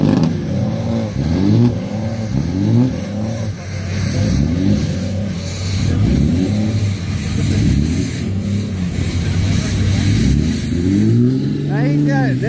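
A Ford Power Stroke diesel truck engine revs repeatedly, rising and falling in rhythmic surges close by, with voices talking over it and a final sharp rev at the end.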